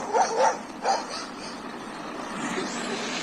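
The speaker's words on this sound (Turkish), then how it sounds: "Köpekler peşine geliyor şu an." A few quick, yelping dog barks from chasing dogs in a video game in a short burst early on, then a softer steady background hum; the barks sound somewhat thin and processed.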